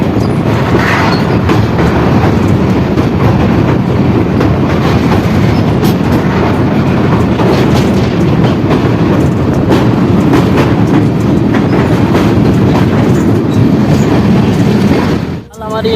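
Garib Rath express with new LHB coaches on a newly electrified line near Samastipur Junction, running loud and steady with continuous rumbling wheel clatter on the rails for the whole stretch, then cutting off abruptly at the end.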